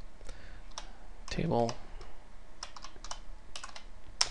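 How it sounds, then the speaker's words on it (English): Rapid clicks of a computer keyboard as code is typed, uneven bursts of keystrokes close to the mic, with a brief spoken word partway through. "This is actually a lot of typing for a very small project"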